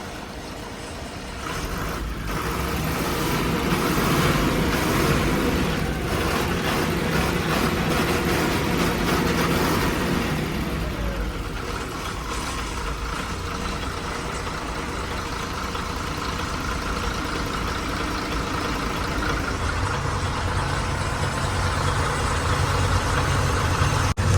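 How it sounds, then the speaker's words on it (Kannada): An old diesel truck that sat unused for four years runs after its fuel was hand-pumped, settling into a loud, steady, rumbling idle close by for the whole stretch, with no voices over it. "ಅಂತೂ ಗಾಡಿ ಸ್ಟಾರ್ಟ್ ಮಾಡಿದ್ದೆ ಪಂಪ್ ಮಾಡಿದ್ದೆ ಸ್ಟಾರ್ಟ್ ಆಯ್ತು ಗಾಡಿ"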